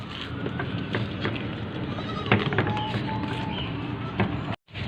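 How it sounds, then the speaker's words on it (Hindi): A weak four-tooth goat for sale at a livestock market bleats a few times over a steady background of farmyard bustle and scattered knocks, with a brief dropout near the end. "ये एक मेरे पास टेडी बकरी है, 4 दांत बकरी है"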